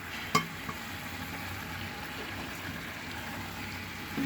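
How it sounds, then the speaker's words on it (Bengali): Fish pieces go into a pan of simmering tomato sauce in a home kitchen, opening with a sharp knock of the pan, then a quiet steady bubbling sizzle with no speech. "এখন আমি মাছগুলো দিয়ে দিচ্ছি।"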